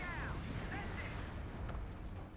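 Machine-gun fire rattles in a Company of Heroes 2 battle, mixed with booming explosions and continuous combat noise, at a moderate level.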